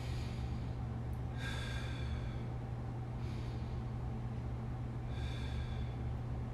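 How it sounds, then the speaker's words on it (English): Deep breaths drawn into the belly during a neck and shoulder mobility stretch, three slow breathy inhales and exhales spaced a couple of seconds apart, close and soft over a low steady hum. "we're going to take a nice deep breath into our belly"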